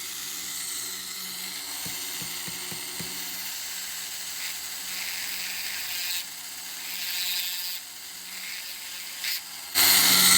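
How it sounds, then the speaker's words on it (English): Dremel rotary tool carving opal, a steady high-pitched whine that runs throughout, with a few light taps early on and the pitch and loudness changing as the bit bites into the stone. "So I'm just using the point of the Dremel into there to create a little cavity."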